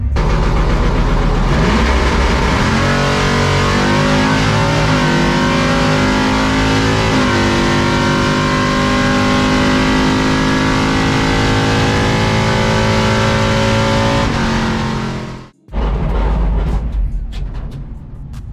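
A C10 race truck's engine revs hard and steadily at the drag strip before a pass, a loud, sustained roar with rising pitch that cuts out briefly near the end and then resumes.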